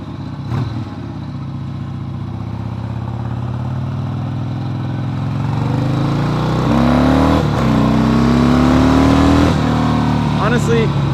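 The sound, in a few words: motorcycle engine accelerating while riding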